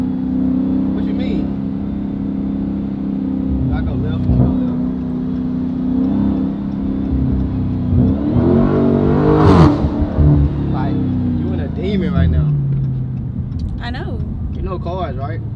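A Rolls-Royce Wraith's engine hums steadily at close range, then revs up and swells briefly mid-clip before settling back, with people talking nearby.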